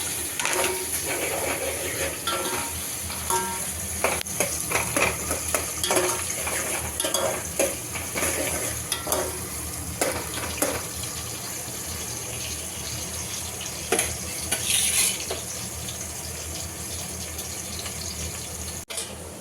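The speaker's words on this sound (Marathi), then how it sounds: "कांदे, कांदे छान ब्राऊन करून घ्यायचं आपल्याला." Onions frying in hot oil with bay leaf in a pan, stirred with a metal spoon: soft sizzling under repeated clinks and scrapes against the pan, close and fairly quiet.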